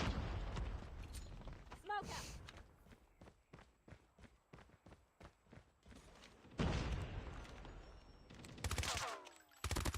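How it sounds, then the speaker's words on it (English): Rapid bursts of gunfire from Call of Duty Mobile tournament play, a quick string of sharp evenly spaced shots with louder dense volleys around them, heard up close. "Shots coming through."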